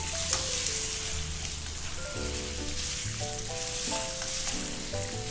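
Lamb browning in a pan for a roghan josh curry, a steady close crackling sizzle with stirring noises throughout, under soft background music with no talking.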